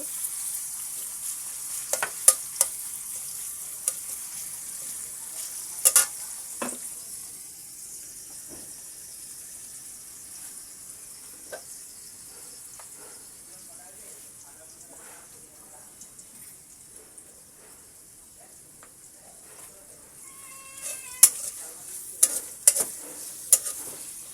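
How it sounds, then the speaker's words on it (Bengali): Chopped onion going into a pan for a spicy tripe bhuna dish, with a soft steady sizzle and frying hiss throughout and a few sharp clinks and stirring scrapes near the start and end. "এবার আমি পেঁয়াজ কুচিটা মেরে দিচ্ছি"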